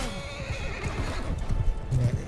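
Horses neigh and whinny repeatedly amid a busy Mount & Blade II: Bannerlord battle, with hooves clopping beneath a dense, loud wash of combat noise throughout.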